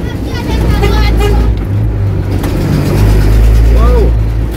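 Water truck passing close by on a rural road in eastern St. Thomas, its loud engine droning with a deep, heavy rumble throughout, while voices talk over it.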